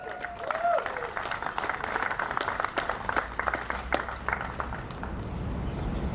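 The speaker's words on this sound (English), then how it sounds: "One round of applause for our mayor." A crowd applauds the mayor at an outdoor city ceremony marking a former federal land transfer for public recreation, with steady broadband clapping and a voice briefly heard over it.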